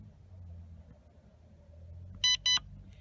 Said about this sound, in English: Okay, that changes the frequency. Couple of beeps.